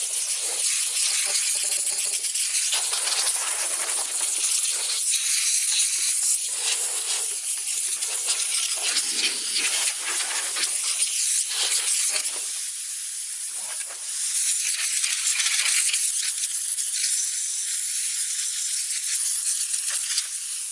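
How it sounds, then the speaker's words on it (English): Compressed air blasts through a Hoover WindTunnel self-propelled bypass vacuum in a loud, close, continuous hiss with bursts and slight pulsing, broken by one brief dip in the middle. "We're going to blow it out with compressed air."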